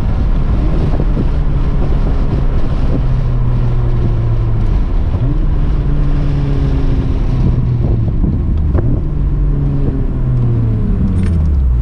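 Truck exhaust with a busted flex pipe, loud and continuous with a raspy drone that drops and climbs in pitch through several downshifts, wind rushing across the microphone throughout.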